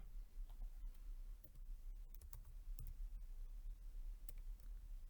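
Quick, irregular clicks of keys on a computer keyboard as a name is typed, close and fairly quiet over a low hum, with no talking.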